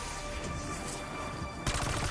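Submachine gun fire in Black Ops 6 Zombies, a steady rapid burst over the game's background hum, louder and denser in the final half second.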